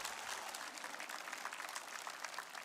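Church congregation clapping during a Sunday afternoon worship service, a soft, continuous patter of many hands heard faint and distant, with no voices over it.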